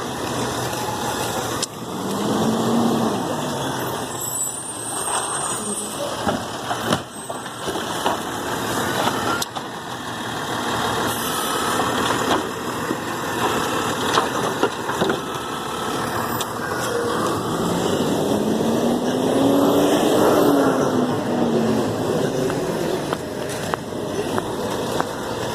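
A garbage truck engine running and idling nearby, a continuous rumbling drone with mechanical clanks and a rising whine toward the end, no talking.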